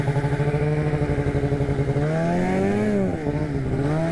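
RMK snowmobile engine run on a finger throttle while side-hilling on snow, a loud, close, steady drone with a fluttering pulse whose pitch rises and then dips briefly.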